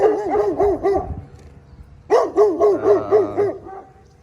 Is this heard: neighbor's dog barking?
yes